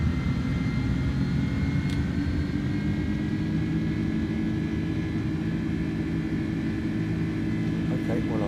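Airliner with CF6 jet engines in Microsoft Flight Simulator 2020, a steady loud engine drone with a whining tonal hum throughout, continuous and close, with a voice speaking over it.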